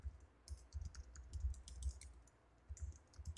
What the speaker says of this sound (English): I'm going to type it real quick